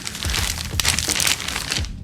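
A reused plastic shopping bag holding vinyl records crinkles and rustles continuously up close, with steady crackling and a few sharper crunches.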